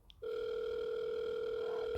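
A telephone dial tone in a mystery game comes on abruptly after a short quiet moment and holds as one steady, unbroken hum to the end.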